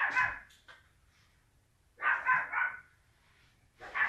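Dogs bark in short clustered bursts, a volley at the start, another around the middle and a third at the end, fairly close with quiet gaps between.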